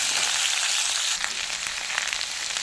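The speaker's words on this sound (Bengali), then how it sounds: "কেটে রাখা ওলটা আলুর মধ্যে দিয়ে একটু নাড়িটা নেবো নুনগুলো দিয়ে একটু কষিয়ে নেবো" Cubed elephant foot yam and potatoes sauté with salt in a hot pan for a yam fish curry, giving a steady, close, continuous sizzle with faint stirring scrapes and no talking.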